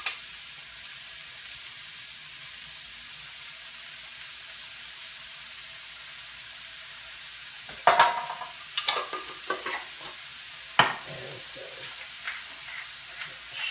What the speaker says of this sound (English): you're just gonna really saute these zoodles quickly. Now you can hear the heat of that pan